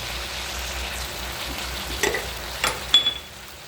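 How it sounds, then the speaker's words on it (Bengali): Steady, soft frying sizzle of white potatoes in oil with tempering spices, with a few brief scraping stirs near the end; no voices. "আলুটা ভাজছি"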